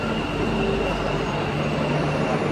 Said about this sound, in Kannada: ಮೆಟ್ರೋ ನೋಡಿ